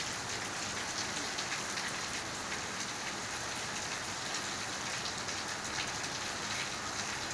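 Steady, dense rain falls on a house rooftop, a continuous even hiss of drops that stays loud and unchanging throughout with no pauses; no voices.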